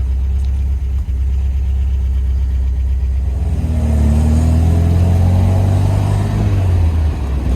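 A 1972 MGB Roadster in British Racing Green idles with a steady low rumble close by, then revs up about halfway through and holds a rising, throatier drone.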